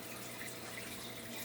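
Water runs steadily from a tap or hose while a 75-gallon fish tank is partly drained and refilled, a faint, even rushing wash with no voices over it.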